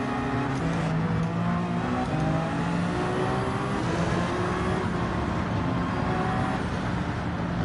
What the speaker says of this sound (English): this is one of the latest hypercars models that I've got on the Gran Turismo 7 game